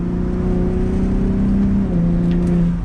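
A 2021–2023 Ford F-150 Raptor with the EcoBoost engine pulls under acceleration, a steady loud exhaust drone holding close with shifting pitch throughout and no voices.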